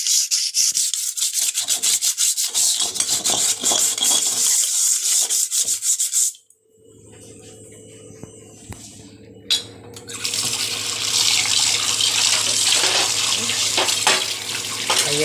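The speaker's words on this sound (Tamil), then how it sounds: "இப்போ பாருங்கள், தேய்ச்சிட்டு ஒரு வாஷ் கொடுக்கணும்." A stained, greasy cooking pot is scrubbed with loud rapid rubbing strokes, then after a short pause water runs from a tap to rinse it, a steady splashing flow that continues to the end.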